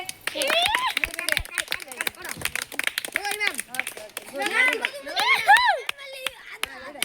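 A group at a children's summer camp clapping for prize winners, with scattered claps mixed among lively children's voices and chatter throughout.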